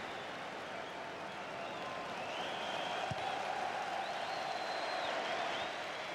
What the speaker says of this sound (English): The applause you can hear is because United substitutes are warming up